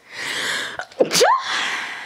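A single sharp sneeze, with a quick breath in and an explosive burst, heard close up against faint background hiss.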